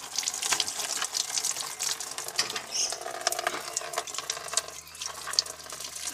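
Coolant pours steadily from the radiator of an NT Pajero into an oil catch pan, a continuous splashing, trickling gush heard up close with no talking.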